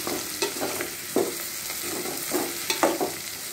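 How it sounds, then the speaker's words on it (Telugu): Cauliflower fries in a pan at home, with a steady close sizzle broken by several sharp scraping stirs of a spoon against the pan. "ఆల్మోస్ట్ ఫ్రై అయిపోయినట్టుంది ఇది"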